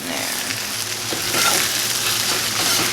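Hash frying and being scrambled in a pan, a steady loud sizzle with stirring scrapes close up, and no talk.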